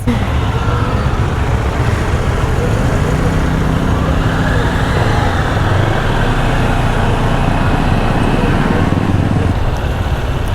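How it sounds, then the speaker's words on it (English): A CFMOTO Ibex 800 motorcycle with a KTM-derived engine runs steadily close by, giving a continuous loud rumble with no clear revs or voices. "The Ibex 800 is what is right beside me. It sounds good. It sounds like a KTM motor because it is."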